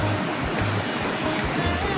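A river along the Annapurna Circuit near Besisahar, Nepal, rushing steadily as a broad, continuous hiss of flowing water, close and even, with a faint low rumble underneath.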